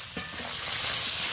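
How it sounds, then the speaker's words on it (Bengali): Eggplant pieces frying in a little oil, a broad hissing sizzle that swells and holds steady, with a few soft knocks early on and no talking. "এবার বেগুনগুলো একটু ভেজে নেব।"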